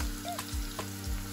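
Food frying in a pan of oil, with onions and garlic, while cooking amaranth greens and dried fish: a steady close sizzle with a few soft stirring bumps, brief and without talk.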